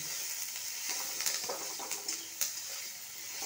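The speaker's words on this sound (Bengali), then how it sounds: "দেখুন, আমি পেঁয়াজটা এইভাবে একটু হালকা ভেজে নিয়েছি" Onion lightly frying in a pan for a home-style karela curry, a soft, even sizzle with a few clinks and scrapes of stirring scattered through it.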